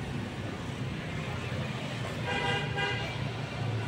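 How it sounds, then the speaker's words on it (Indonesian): A car horn, from a Toyota Innova, toots briefly amid steady road and traffic noise, moderately distant, with no talking over it. "Oh, ini klakson kedengeran? Innova tadi klakson."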